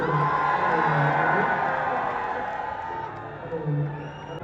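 A dense crowd cheers, whoops and applauds for Babbu Maan at a farmers' expo, a loud, continuous roar of voices and clapping that swells and eases slightly throughout.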